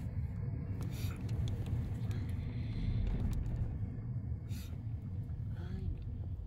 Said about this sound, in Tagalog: Ay, sasakyan na eh.